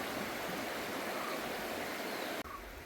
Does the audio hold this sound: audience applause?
no